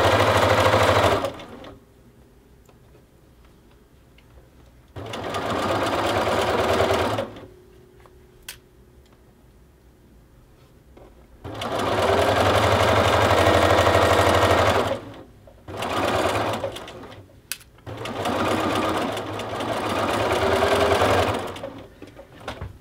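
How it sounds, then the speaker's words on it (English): Sewing machine stitching the bottom band of a Nordic fleece knit jacket, running in four loud bursts of rapid whirring separated by quiet pauses. "You'll sew along the band."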